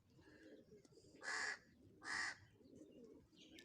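A pigeon back home gives two soft, close coos over faint background rustle and quiet ambient noise.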